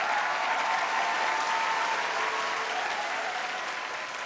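Steady, dense audience applause in a studio comedy show honoring a singer, a continuous wash of many hands clapping that holds strong and eases slightly toward the end, with no talk over it.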